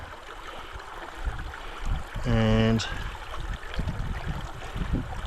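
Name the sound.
water sloshing as a sapphire fossicking pan is dipped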